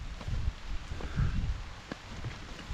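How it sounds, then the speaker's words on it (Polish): Steady rain patters on a garden at the start of summer, with low rumbling gusts and a few soft knocks and rustles nearby, no voices. "ale leje. Będę cały mokry."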